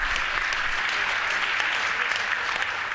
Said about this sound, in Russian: Аплодисменты, дорогие друзья!